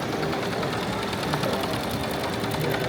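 A BAI embroidery machine stitching at a trade expo, a continuous fast mechanical chatter of needle strokes over a busy hall hum, steady and close.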